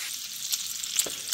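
Bacon frying in an antique Griswold cast iron skillet gives a soft, steady crackling sizzle with small spits and pops, fairly quiet and close, with no voices.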